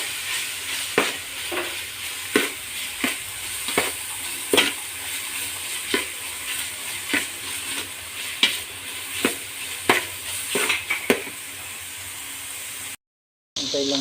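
Ground meat frying in a pan until golden brown, a steady sizzle broken by regular scraping stirs about once a second, close and fairly loud, then a brief drop to silence near the end.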